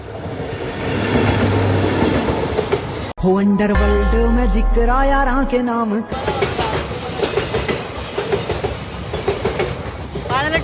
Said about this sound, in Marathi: मित्रांनो ट्रेन पण आलेली आहे फायनली.